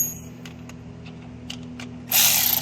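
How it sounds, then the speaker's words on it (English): A ratchet tightening a starter bolt on a 2004 Oldsmobile Alero GLS V6, with a few faint, scattered clicks followed by a loud, fast burst of ratcheting close up and no talking. "I'm going to go in with the ratchet."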